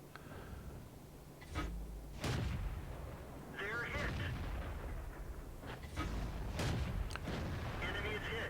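A 75mm tank gun firing in World of Tanks, the shots hitting Panzer IVs: several heavy booming reports at irregular intervals over a constant engine rumble and battle noise, with a voice talking in between.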